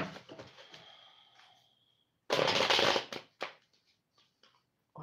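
A deck of playing cards is shuffled in one loud riffle lasting about a second. Quieter taps and card handling come before and after it.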